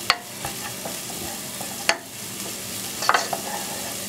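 A steak sizzles in a hot oiled pan with garlic, a steady frying hiss close by, broken by a few sharp clinks and scrapes of a utensil against the pan.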